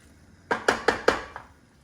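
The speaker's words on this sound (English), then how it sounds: "I just wanna toss the beans in the sofrito" Beans tossed into sofrito in a pan make five quick, close thunks spaced evenly, each with a short ringing decay, standing out against near silence.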